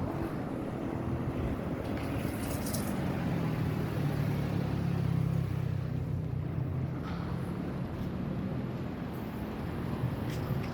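Steady road traffic drones beside a roadside walk with no sidewalk in the Philippines, a continuous mid-level rush of passing vehicles and wind buffeting the microphone, with no one talking.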